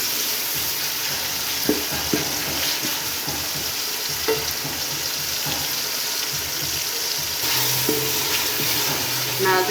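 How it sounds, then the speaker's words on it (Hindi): Tomatoes and green chillies added to onions in a pot for aloo gosht, sizzling steadily and close with occasional stirring clatter and a brief low hum toward the end. "अब इसमें टमाटर और सब्ज़ी मिर्चें ऐड करते हैं। 4 से 5 मिनट तक टमाटर और मिर्ची फ्राई होने दें।"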